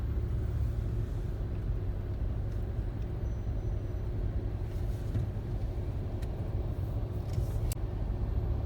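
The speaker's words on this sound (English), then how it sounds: "Traffic again." Car traffic on the Las Vegas Strip at night, heard from inside a moving vehicle as a steady low engine and road rumble with faint clicks, no voices.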